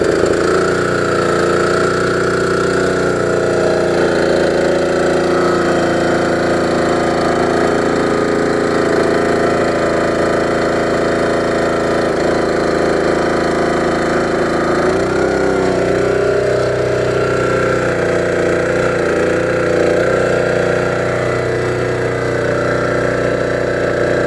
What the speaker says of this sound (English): Choke off and idle.